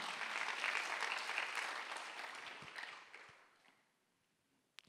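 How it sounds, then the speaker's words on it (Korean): Church congregation applauding during a Sunday worship service, a broad wash of clapping that fades out over about four seconds, followed by near silence and a faint knock. "박수 하나 더 주세요"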